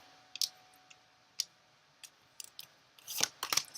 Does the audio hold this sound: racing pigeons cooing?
no